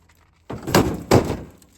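A pickup truck tailgate is slammed shut twice in quick succession, two loud close metallic thuds with a short rumbling decay, following a brief quiet lead-in.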